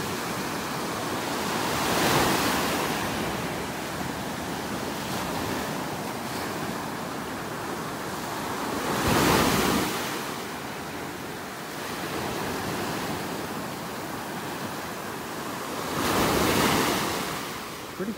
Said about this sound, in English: Boy, these waves are neat.